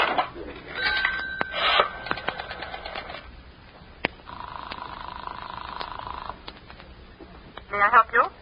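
In a 1944 old-time radio drama, a telephone effect sounds as one sustained buzzing ring of about two seconds, set among stretches of spoken dialogue.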